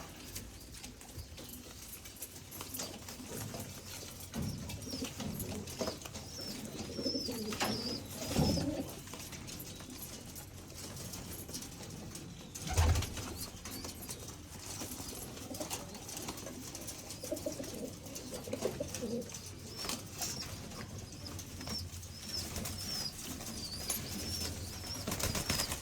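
Pigeons coo softly and repeatedly in the background, with occasional wing flaps and rustling, over a steady low hum of the surroundings.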